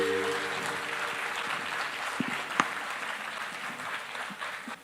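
A live-show audience honoring a singer gives sustained applause, a broad, even roar of many hands with a few sharper claps standing out near the middle, fading slightly at the close.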